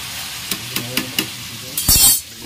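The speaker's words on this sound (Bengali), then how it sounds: "এখানে বেরেস্তার জন্য পেঁয়াজ ভাজা হচ্ছে" Onions sizzle in oil for biryani garnish while a utensil stirs them in a steady rhythm of four scrapes, followed by a louder burst of frying.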